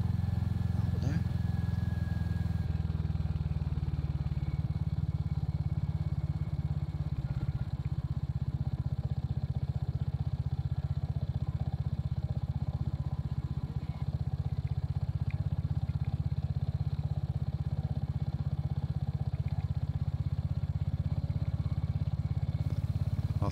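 A Royal Enfield Hunter motorcycle engine idles steadily in the background for the whole stretch, a constant low rumble running under a man's speech.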